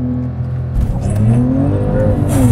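A 2021 Porsche 911 Turbo S launches hard under launch control, its engine note climbing steadily as it accelerates, loud and close from inside the car with no talking.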